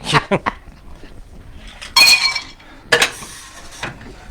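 Metal cocktail shaker tins clink and clatter during home bar cleanup and rinsing, several sharp bright knocks spaced apart with quieter rattles between.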